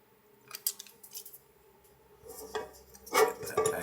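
A strip of double-sided tape cut from a roll during a clock repair, giving a few short, close snips and crinkly rustles, with a louder cutting burst near the end.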